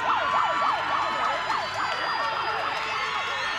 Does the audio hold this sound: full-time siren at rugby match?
yes